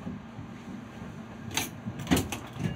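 Doors of the Takao Tozan Railway cable car slide open on arrival at the mountain station, a short burst of clatter and rattling over a steady low motor rumble, fairly close.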